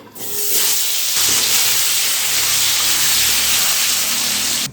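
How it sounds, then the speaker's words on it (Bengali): After a brief quiet start, a loud, steady sizzling hiss sets in as potatoes fry in hot mustard oil, continuing close and unbroken. "যখন দেখবেন তেলটা খুব ভালো করে গরম হয়ে গেছে তখন এর মধ্যে আলুগুলো দিয়ে ভেজে নিতে হবে"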